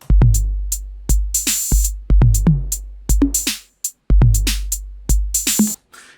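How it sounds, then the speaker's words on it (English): A dry electronic drum machine beat from Ableton's 606 kit plays alone: punchy kicks, snappy snares and crisp hi-hats in a steady, looping pattern with short gaps. "I've made a little beat using the 606 kit that comes with Ableton"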